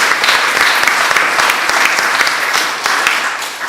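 Loud, thick applause from a lecture audience at Gresham College in London, steady throughout and easing slightly near the end, with no one speaking over it.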